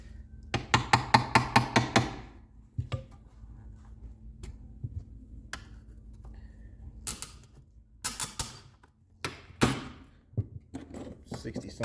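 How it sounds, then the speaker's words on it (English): Old staples from a 1960 Impala convertible interior pried out with a screwdriver and channel locks, sharp metallic clicks and creaks in bursts, a quick run of snaps early then scattered pops, close up. "So now I'm just going to pop the rest of these staples out."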